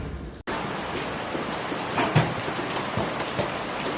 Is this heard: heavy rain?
yes